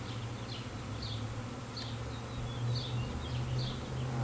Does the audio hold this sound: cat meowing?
no